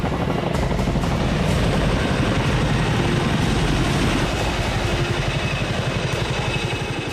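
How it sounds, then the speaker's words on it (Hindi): A US military multi-mission helicopter in flight, its rotor making a loud, steady chopping drone with a rapid pulsing beat that holds close and strong throughout, with no talk over it. "अमेरिका में बना सबसे ताकतवर और सबसे घातक हेलीकॉप्टर।"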